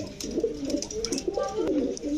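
Several flying and fancy pigeons at a market coo in soft, repeated rolling calls, close and clear, with faint voices and market noise underneath.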